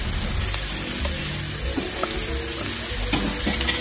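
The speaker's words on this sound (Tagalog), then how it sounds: "Halu-haluin natin ang ating mga chicken feet para pantay yung pagkakaluto niya." Chicken feet frying in a pan for a spicy black bean sauce dish, stirred so they cook evenly: steady loud sizzle with scraping and clinking of the utensil against the pan, no talking.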